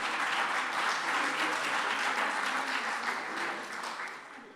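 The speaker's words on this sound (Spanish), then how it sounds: "yo les voy a pedir que me den un aplauso" A seminar audience in a hall breaks into sustained applause, a full, even wash of many hands clapping that holds steady and then tapers off near the end.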